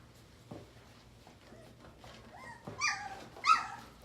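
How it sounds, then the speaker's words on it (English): A laid-back puppy whimpers and yips softly at close range, with a few thin, rising whines and light thumps of movement near the end, no talking. "Just a real laid back, easygoing puppy."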